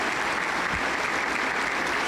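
A Pentecostal church congregation in Huancayo applauds with dense, loud, steady clapping that fills the whole two seconds and does not fade.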